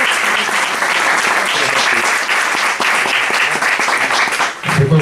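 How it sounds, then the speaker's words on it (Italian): Audience applause for author Damiano Pellizzari at an Italian book presentation, a dense, loud wash of clapping sustained throughout, close and continuous before fading near the end. "Gli farei un applauso per averci."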